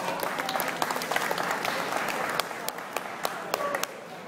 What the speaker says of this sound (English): Nice round of applause for Dan.